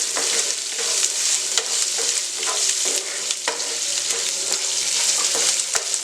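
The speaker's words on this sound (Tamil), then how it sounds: "அப்படியே வந்து ஒரு மீடியம் சைஸ் வெங்காயம் போட்டுக்கலாம். இதை வந்து வதக்கிக்கோங்க." A medium onion sautéing in a hot pan in a home kitchen, with a steady bright sizzle and irregular scraping clicks from stirring, close and unbroken, with no talking.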